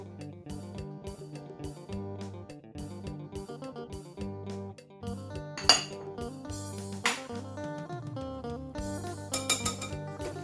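A spoon stirs dry coconut, cinnamon-dusted walnuts and raisins into carrot cake batter in a bowl, giving close, repeated clinks and scrapes against the bowl in an uneven rhythm.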